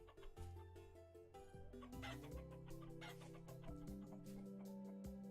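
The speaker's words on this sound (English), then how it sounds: "It's like I'm constantly filtering out the chickens here." Chickens cluck and chatter continuously in the survival game Vintage Story, several birds close by producing busy overlapping clucks and squawks against a steady farmyard ambience, with no talk.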